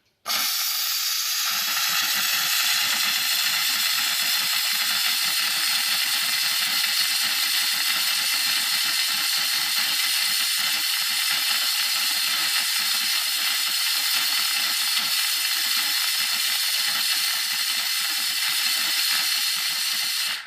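A McCulloch MC1385 steam cleaner gives a steady, loud hiss of steam with a crackling, sputtering edge, as water spits out continuously for the whole stretch without pause.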